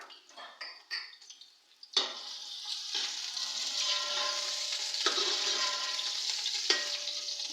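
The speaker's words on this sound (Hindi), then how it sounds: "प्याज को मैं ब्राउन कर लेती हूँ।" Onions hit hot oil in a pan for mutter pulao, bursting into a loud, steady sizzle after a few utensil clinks, with occasional spoon scrapes and stirring knocks throughout.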